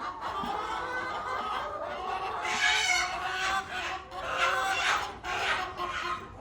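Hens on a small chicken farm cluck and squawk close by in overlapping bursts, with a busy, chattering flock sound throughout.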